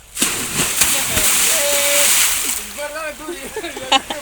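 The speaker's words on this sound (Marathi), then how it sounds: "आता सर उडी मारणार मुटकाच पाणीच बाहेर काढणार" Pilgrims swimming: a person jumps feet-first into water, throwing it out in a few quick splashes followed by a hissing spray, while excited voices call out close by.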